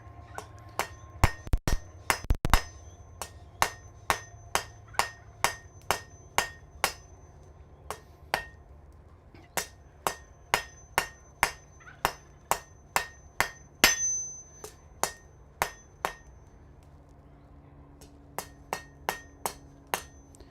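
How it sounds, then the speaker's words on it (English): Hammer blows forging a two-sided sharp taper on hot steel at a smithy anvil, a long series of sharp ringing metallic strikes in steady bursts with short pauses, loud and close, no talking. "go ahead and forge that sharp taper. Two-sided taper."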